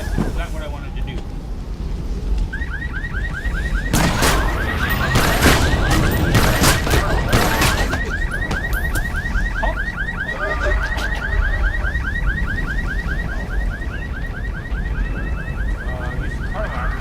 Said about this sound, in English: Use the car alarm.